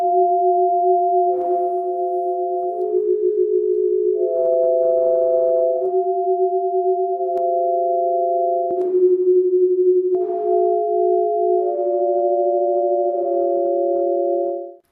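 Sound portraits of faces built from colour notes: steady pure electronic tones held in two- and three-note chords that shift every second or two, loud and continuous with no voices.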